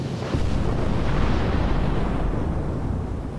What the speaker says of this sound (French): est torpillé par un sous-marin allemand